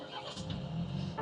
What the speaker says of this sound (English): we'll keep the door open for a quick startup sound